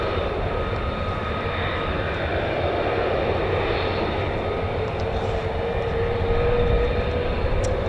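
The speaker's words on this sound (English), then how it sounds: "you can hear the Pratt & Whitney's F100-229 engines start up" Twin Pratt & Whitney F100-229 jet engines of a US Air Force F-15 spool up on the flight line at RAF Lakenheath, a steady loud broadband roar with a faint whine that holds without a break and never stops or fades.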